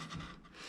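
A hand-pushed gouge pares a live oak spoon without a mallet, a short dry rasping scrape of steel shaving wood, close and quiet.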